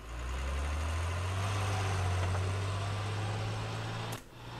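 An armored vehicle's engine in the military shooter game Squad starts and runs at a steady, loud idle, a low droning hum that lasts several seconds before cutting off abruptly near the end.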